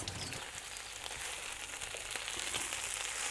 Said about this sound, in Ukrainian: Поки підсмажиться курочка з цибулькою і готуємо далі.